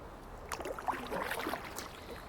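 A kayak paddle dips and swishes through river water, soft splashes and gurgles in a short irregular burst, faint and close, over a light outdoor wash.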